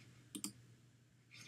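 A computer mouse gives two quick, crisp clicks close together, faint and close up in a quiet room, followed by a soft brief rustle.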